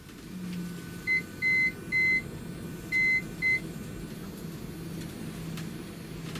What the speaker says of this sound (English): That alarm going off is the high speed wind alarm.